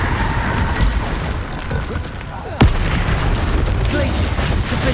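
A Confringo fire blast spell in Hogwarts Legacy detonates with a single sharp booming burst midway, set against a continuous rumble of game effects and spellcasting noise.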